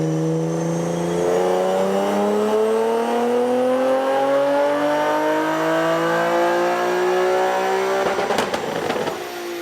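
A Nissan Z engine on a dyno climbs in one long, loud rising rev, then ends in a burst of crackling pops. No voices are heard.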